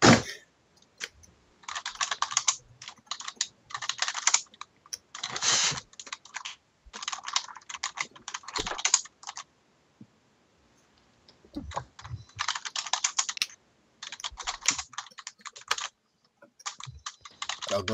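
Rapid typing on a computer keyboard during a Minecraft Draw My Thing game session, dense bursts of key clicks with short pauses, close and fairly loud, no talking.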